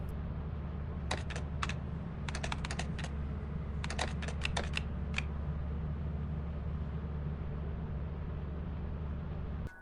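Quick bursts of key clicks as a command is typed into the ship terminal in Lethal Company, several short clusters of taps over a steady low engine-like hum, with no speech.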